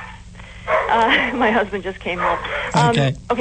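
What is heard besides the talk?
dog barking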